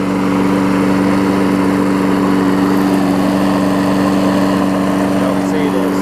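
An older 5hp Briggs & Stratton Quantum engine on a Weed Eater mower deck runs steadily nearby, a loud, constant droning hum with a strong low tone that holds evenly throughout.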